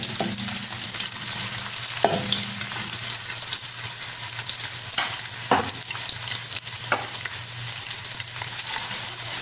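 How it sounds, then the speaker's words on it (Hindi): Onions sizzle steadily in hot oil in a pan while a spoon stirs them, with a few sharper scraping clicks against the pan over a constant frying hiss. "आधी प्याज डालेंगे"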